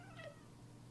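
A cat gives a single short meow, faint and somewhat distant against a low, steady indoor background.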